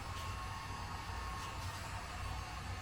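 Steady broadband hiss of a heat gun blowing hot air onto trim adhesive on a Tesla Model Y, held close and constant without pauses, with no talk.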